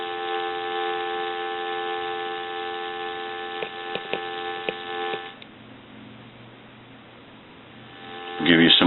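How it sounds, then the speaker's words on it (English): An AT&T 5.8 EP5632 cordless telephone handset gives a steady, continuous dial tone over its speaker, with a few clicks partway through before the tone drops away and a brief burst of noise returns at the end. "Give you some more dial tone."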